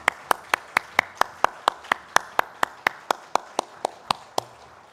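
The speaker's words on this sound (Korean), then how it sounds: "하나님께 영광의 박수 함께 올려드리겠습니다." A church congregation claps together in a steady, even rhythm during a Sunday service, about twenty sharp claps in unison, moderately faint and with no talking.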